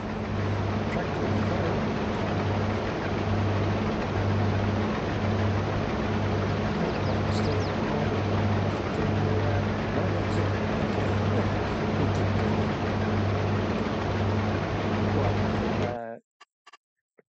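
A tractor engine runs in the Farming Simulator 22 video game, a steady, continuous low rumbling drone with a faint pulsing hum, moderately loud and unbroken before cutting off abruptly at the end.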